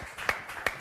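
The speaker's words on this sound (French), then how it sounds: "On l'applaudit encore" A studio audience at a live French TV music show claps for a singer, two distinct claps standing out over a soft, sparse patter of hands.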